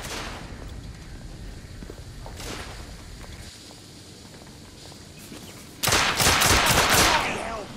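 Gunfire from The Order 1886, scattered single shots early on, then a loud close burst of rapid automatic fire near the end, with footsteps and battle noise between.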